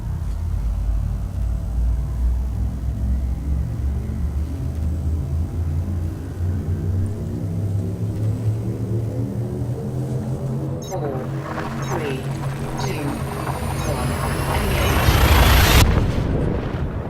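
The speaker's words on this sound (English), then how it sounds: "Engage hyperdrive. Drive charging." A hyperdrive charges and jumps in the Elite Dangerous game: a deep, rising rumble with climbing tones swells steadily and then bursts into a loud whooshing surge near the end.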